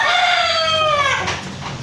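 A farm rooster crows once, loud and close, a long drawn-out call with clucking character that fades near the end, with no talk over it.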